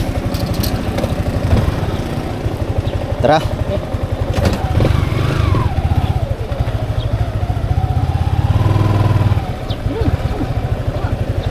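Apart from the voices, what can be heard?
motorcycle engine running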